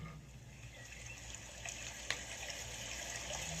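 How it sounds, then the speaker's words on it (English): Soft running water, like a tap filling or a gentle gush, plays as a steady faint wash with one brief splash partway through and no voices. "I don't want this water sound."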